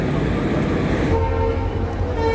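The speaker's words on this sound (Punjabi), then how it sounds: "ਲੁਧਿਆਣਾ ਜੰਕਸ਼ਨ ਤੇ ਸਾਡੀ ਟ੍ਰੇਨ ਪਹੁੰਚਦੀ ਪਈ ਹੈ ਜੀ ਟ੍ਰੇਨ ਹੌਲੀ ਹੋ ਗਈ ਹੈ" A train rumbles steadily with a low mechanical roar, faint tonal whines rising over the clatter as it slows into Ludhiana Junction, heard from on board.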